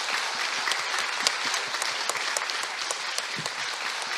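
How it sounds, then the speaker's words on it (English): Applause from a conference audience, a crisp, steady clatter of many hands clapping at moderate volume with individual claps standing out, sustained throughout. "So please join me in a round of applause"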